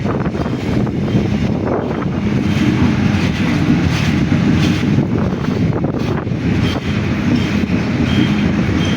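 A steady, loud rumble of a train at Ibrahimabad railway station near the Jamuna Bridge, Bangladesh, with wind buffeting the microphone throughout and no voices.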